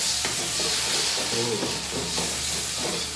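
Stir-frying a spicy Sundanese water spinach dish in a pan right after a splash of water and seasoning: a loud, constant sizzling hiss with steam, broken by scraping stirring strokes, with no voices.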